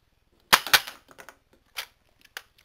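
A Nerf Barrel Break IX-2 blaster fires Whistler darts with two sharp, close pops in quick succession, followed by lighter clicks and a couple of softer mechanical snaps.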